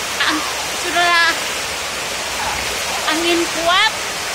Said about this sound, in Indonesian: Sekarang ini hujan lebat ini, angin pun kencang.